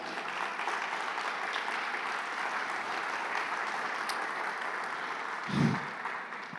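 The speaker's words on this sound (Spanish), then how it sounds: "dele fuerte aplauso al Señor" A standing church congregation applauds steadily, a dense, even roar of many hands that holds throughout, with a short low thump near the end.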